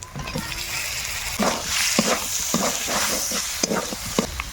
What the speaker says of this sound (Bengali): ভালো করে মশলাগুলো আমি কষিয়ে নেব